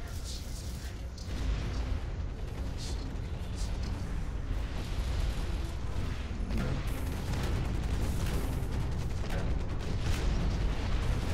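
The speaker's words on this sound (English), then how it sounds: "I could still hit him just by launching those grenades a little bit in front of him" Grenades fired from a heavy mech in the Hawken video game thump and boom repeatedly over a loud, dense rumble of battle noise, with a voice talking faintly beneath the continuous din.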